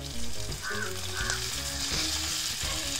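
Karimeen, pearl spot fish, fries in a pan with a constant close sizzle and crackle, occasional utensil knocks and scrapes as it is handled.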